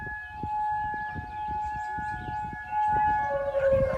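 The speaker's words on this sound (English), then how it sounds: "So then the siren winds down." An outdoor neighborhood tornado siren, sounding for a monthly test, holds its steady tone and then begins to wind down near the end, its pitch dropping over muffled low background rumble.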